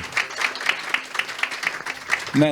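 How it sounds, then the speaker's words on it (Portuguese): Applause for new members at an inclusive education event comes as a short burst of distinct, rhythmic hand claps, fairly close, ending with a brief voice. "Então vamos aplaudir os nossos novos membros aqui do"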